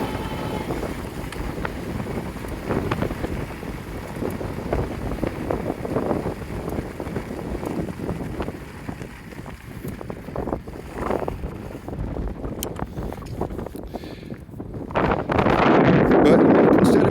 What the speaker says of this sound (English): all that heavy wind blowing